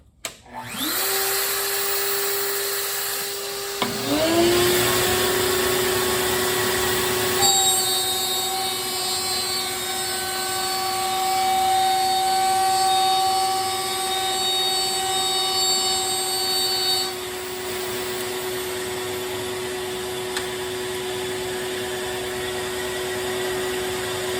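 A Safety Speed Cut panel router cutting a dado in a shop with a shop vac running, heard as a loud, steady motor whine and airflow roar after a brief start-up, with shifting tonal hum throughout.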